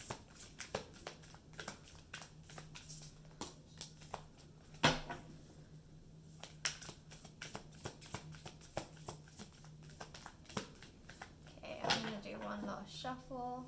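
Tarot deck shuffled by hand in a pick-a-card reading, giving a run of crisp taps and riffles with a louder flurry near the end, while a voice talks over it.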